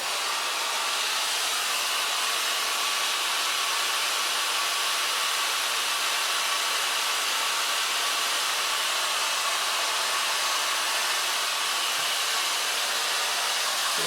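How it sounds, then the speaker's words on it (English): A hair dryer fitted with a diffuser blows hair dry during a haircut in a salon, a loud steady airflow roar holding constant throughout with no pauses. "Blow drying, take a diffuser. So just gently dry the hairs."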